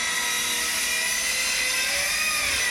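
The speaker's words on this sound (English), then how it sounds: "the sound of the chainsaw isn't actually a chainsaw. It's definitely a circular saw." A circular saw sound effect whines in a punk song, a loud, high, sustained buzzing drone that slowly bends in pitch.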